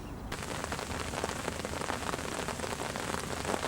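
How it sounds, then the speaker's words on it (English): Heavy rain drums steadily on a fishing umbrella at a lakeside swim during autumn carp fishing, a dense, constant close patter with no break, starting abruptly just after the opening moment and continuing loud throughout. "Excellent conditions, peeing down with rain."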